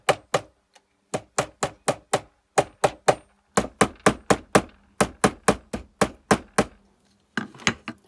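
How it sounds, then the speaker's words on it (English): Hammer blows flattening a small silver shape before enamelling, a steady run of sharp, evenly spaced metallic strikes, close and loud, with a brief pause before the rhythm resumes. "hammer these sides in a little bit more, which will help make it the whole thing flatter"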